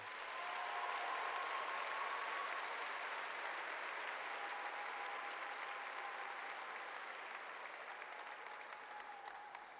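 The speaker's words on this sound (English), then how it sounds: "Can we please give them a round of applause as well?" Steady applause from a commencement crowd in an arena, broad and continuous at moderate distance, slowly thinning toward the end.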